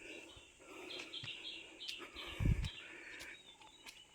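Small birds chirp on Sathuragiri mountain, giving faint, scattered short calls against a quiet outdoor hush, with a brief low thump midway.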